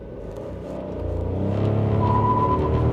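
A 2025 Skoda Kylaq with a manual gearbox accelerates hard from a launch, its engine rumble rising steadily and growing louder in the cabin, with a faint whine emerging toward the end.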